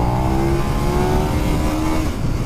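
Loud, steady engine drone of a 2020 KTM Super Duke R motorcycle, held at high revs close by with a slight pitch rise, no talk over it.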